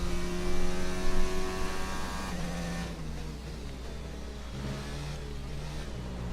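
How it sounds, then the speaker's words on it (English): Race car engine whining off throttle like a wind-up toy, a loud, steady tonal revving whine that drops in pitch and continues as a lower, quieter drone, with no talk. "It's like somebody's winding up like a little like wind-up toy when I'm off throttle."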